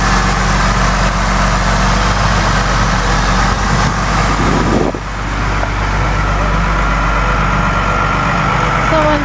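A 2002 Honda Accord with a 3.0 liter six-cylinder engine idles steadily and loudly up close, a constant low rumble with a brief dip midway and no talking.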